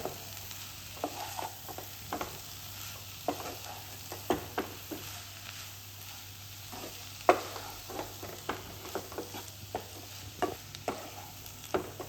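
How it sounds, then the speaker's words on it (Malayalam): Cooked chicken with spices being stirred and mixed in a frying pan for a chicken roll filling, quiet scraping strokes and soft clinks at an irregular pace over a low sizzle, no voices. "ഇത് ഇതിലേക്ക് ഇട്ട് കൊടുക്കാം. ഇതെല്ലാം കൂടി ഒന്ന് നല്ലോണം മിക്സ് ചെയ്യും."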